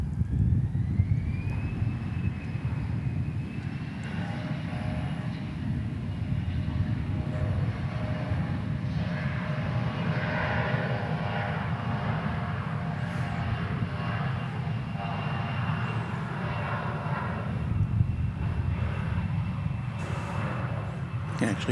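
Distant Airbus A340 jet taxiing and turning at DFW Airport, a steady low engine rumble with a faint rising whine, heard continuously alongside nearby talk.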